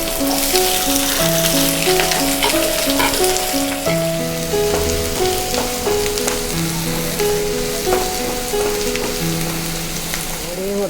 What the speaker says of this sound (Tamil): அது இந்த எண்ணெயில் போட்டு நல்லா வதக்கிக்கிடணும்